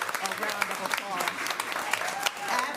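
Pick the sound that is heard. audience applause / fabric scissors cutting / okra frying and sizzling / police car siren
audience applause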